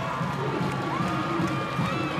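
A home rugby crowd at Churchill Park in Lautoka greets the Fijian Drua side, a continuous roar of cheering and shouting from a large stadium audience, sustained and fairly loud.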